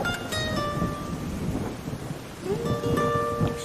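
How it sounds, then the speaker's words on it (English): Rain pours over a thunderstorm rumble in the Forza Horizon 5 racing game's Mexico storm season, a steady wash of rainfall with low thunder, while a few bright tonal game sounds ring out on top. "Storm season is rolling into Mexico."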